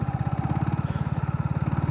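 A Yamaha MT 15 motorcycle rides at low speed while turning, and its engine gives a close, steady, rapid thumping pulse with no voices.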